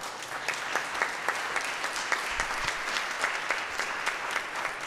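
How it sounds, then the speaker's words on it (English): Church congregation applauds during a Sunday Holy Communion service, a steady patter of many hands clapping for several seconds at moderate distance. "Clap for that."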